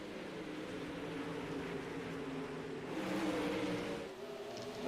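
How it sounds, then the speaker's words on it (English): Sprint cars race in the iRacing video game, with a steady, loud engine drone that holds constant and swells slightly near the middle, with no talk. "Man, those sprint cars are loud."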